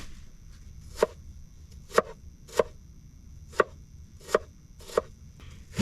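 A knife chops onions on a small chopping board in a cramped van kitchen, giving six sharp, close knocks at uneven intervals over a quiet background hum.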